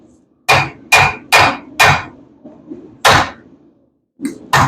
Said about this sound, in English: I'm going to go ahead and just cut it right here.